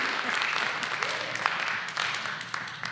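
An audience claps at a community foundation event, a dense patter of many hands filling the room at moderate volume, with a voice speaking over part of it.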